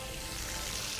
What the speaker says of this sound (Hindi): अच्छा सा फ्राई हो जाए